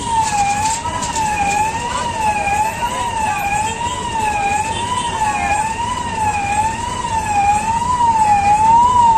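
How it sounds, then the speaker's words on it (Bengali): A warning siren wails in a smooth, repeating up-and-down warble at a railway level crossing in Feni, Bangladesh, as a train approaches, loud and steady over a low rumble of waiting road traffic. "আমরা সাউন্ড শুনতে পাচ্ছি, ট্রেন কিন্তু ইতিমধ্যে চলে এসেছে"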